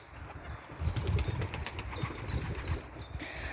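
Pigeons take off and fly in a quick burst of wing flapping, with several soft flutters and faint high chirps over a quiet outdoor background.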